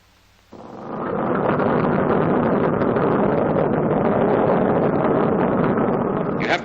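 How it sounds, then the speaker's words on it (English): A Boeing B-29 Superfortress radial piston engine catches after a short quiet start, then roars in a loud, steady, rumbling drone that holds to the end. "The same procedure is repeated until all 4 engines are running."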